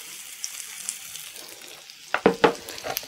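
Zucchini waffle batter spooned onto a hot greased GFgril waffle iron crackles and sizzles, faint at first, then several sharper bursts of frying close by, with no talk.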